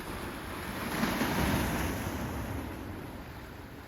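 Ocean waves on a rocky shoreline at Kailua-Kona, Hawaii, make a continuous roar and wash that swells and then eases, with wind rumbling against the microphone.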